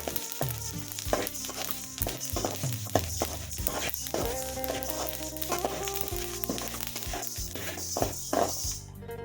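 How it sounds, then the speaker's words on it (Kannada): Chutney powder ingredients dry roasting in a pan for a North Karnataka style chutney, crackling and popping densely and continuously up close, irregular sharp pops over a steady sizzle, with no talk. "ಈ ರೀತಿಯಾಗಿ ಚಟಪಟ ಚಟಪಟ ಅಂತ ಸೌಂಡ್ ಬರಬೇಕು ಆಗ ಇದು ಹುರಿದಿರೋದು ಹುರಿತಾ ಇರೋದು ಸ್ವಲ್ಪ ಆಗಿ ಗೊತ್ತಾಗುತ್ತೆ"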